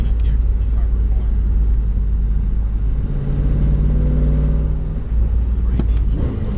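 Inside a car, the engine drones loudly and steadily while a driver brakes and heel-toe downshifts through third gear, the pitch shifting as revs change, with someone talking over the engine.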